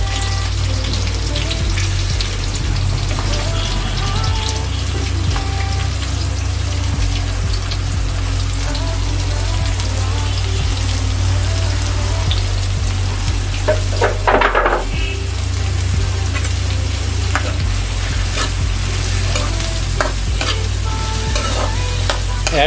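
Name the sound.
chopped onions frying in a pan with green chillies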